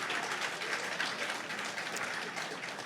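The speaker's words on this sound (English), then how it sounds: "our debaters deserve another round of applause for their thoughtful participation and commitment" Audience at a USC fall student debate applauding the debaters, continuous dense clapping from a crowd filling the room at steady volume, with no talking.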